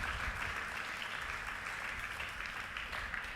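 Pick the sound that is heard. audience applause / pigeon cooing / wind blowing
audience applause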